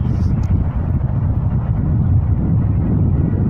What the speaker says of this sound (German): Jetzt ist der Wind wieder extrem.